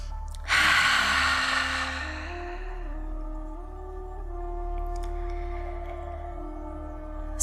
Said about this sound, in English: as soon as the larynx contracts, you'll hear the breath turn into a sound, kind of like the waves of the ocean